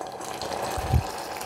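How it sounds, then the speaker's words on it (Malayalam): Boiling water poured into a plum cake batter in a bowl: a brief, soft liquid splash near the middle of a quiet moment, close by and low in level. "പിന്നെ അരക്കപ്പ് തിളച്ച വെള്ളം ഒഴിച്ചു കൊടുക്കാം."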